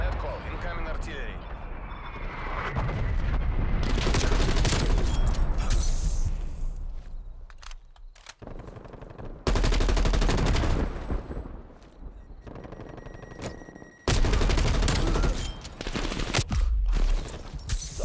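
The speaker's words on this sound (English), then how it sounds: "Net call, incoming artillery." Incoming artillery strike in Black Ops Cold War, with heavy bursts of gunfire and booming explosions arriving in loud waves separated by brief lulls, and players talking over the barrage.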